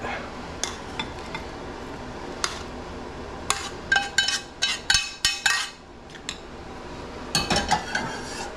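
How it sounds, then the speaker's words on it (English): Spoon scraping and clinking against a pot while cilantro is stirred into pork and beans, a run of close metallic knocks and clinks clustered in the middle and again near the end, no talk. "Just stir in the cilantro at the end. Just like that."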